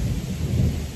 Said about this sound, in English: Where's the thunder?